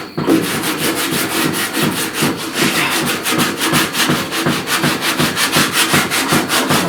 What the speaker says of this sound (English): As I sand this